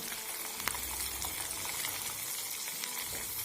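Homemade hair oil with leaves simmering in a pan, a soft steady sizzle and bubbling hiss with faint stirring clinks, quiet and close, no voices.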